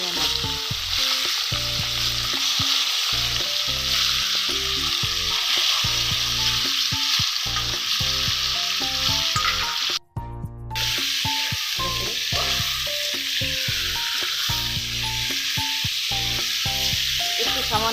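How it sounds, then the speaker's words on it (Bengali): Food sizzles loudly and continuously in a pan, with rhythmic scraping of stirring throughout and a brief pause partway. "একটু নেড়ে নিয়ে একটু ভাজা ভাজা করে"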